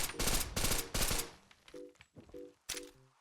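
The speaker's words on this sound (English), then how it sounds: "we get to fire this thing a whole lot faster" A modded pistol with a fully upgraded receiver in Fallout 4 fires a quick string of three loud shots, followed by fainter clicks and mechanical tones as the ammo runs out.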